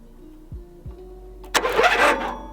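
A lawn mower engine is cranked over by touching the starter solenoid: two brief thumps, then a sudden loud burst of spinning, churning mechanical noise that carries on steadily.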